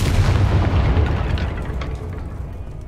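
A Confringo fire-blast spell from the video game Hogwarts Legacy goes off as a loud, deep booming explosion that rolls out and slowly fades over a few seconds, standing alone without talk.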